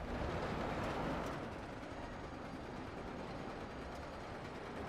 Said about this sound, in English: The mining spinning car, not spinning, but leaning train cart minecart coaster.